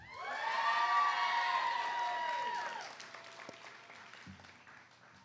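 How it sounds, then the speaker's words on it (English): An audience at a nursing pinning ceremony bursts into loud applause with whoops and cheers, swelling quickly, holding for a couple of seconds, then thinning to scattered claps and fading. "Please give a rousing applause to our student speaker"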